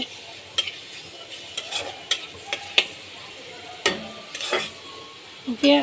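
Onions frying in oil in a pan for a rohu fish-head curry with potato and eggplant, a low sizzle broken by sharp scraping stirs and utensil clicks at irregular intervals.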